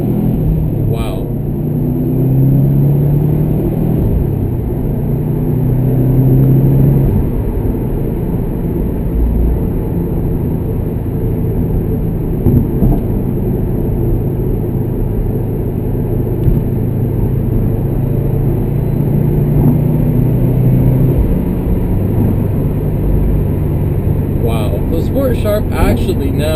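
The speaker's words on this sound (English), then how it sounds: "The car accelerates so much quicker." A 2013 Subaru WRX STI sedan with a COBB Accessport Stage 1 tune accelerates hard at highway speed, heard from inside as a steady, loud engine and road drone with rising pitch and no talking over it.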